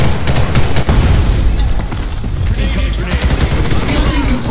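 Turret firing in the Terminal Conquest video game, a dense, loud barrage of rapid shots and booming impacts layered over one another in a continuous battle din.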